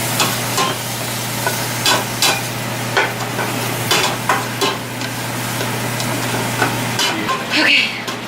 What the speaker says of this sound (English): Okay, so I just added the onion and the garlic.